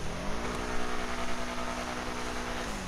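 A Schlagen GT sports car in GTA Online revs its engine, a loud, sustained droning tone that rises in pitch and then holds steady, heard alone.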